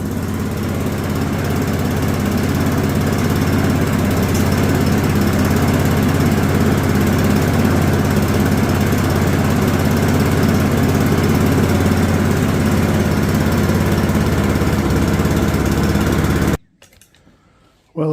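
A small engine that will not rev high, with a suspected carburetor fault, idles steadily and close for a long stretch, loud and unchanging, then cuts out abruptly near the end.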